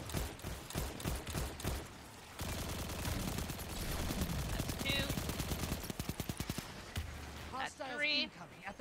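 Rapid automatic gunfire in an online shooter video game comes in dense crackling bursts, first for about two seconds and again briefly later, mixed with steady game noise and a voice talking.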